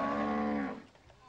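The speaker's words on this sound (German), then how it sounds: "diese Kühe sehen wie junge Mädchen bei einem Fest aus" Cattle low in one long, loud, sustained moo that fades out, with no talking.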